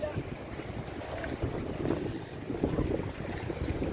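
An outrigger bangka maneuvers on open water, with wind buffeting the microphone and water sloshing and churning against the hull in a steady rough wash, no voices.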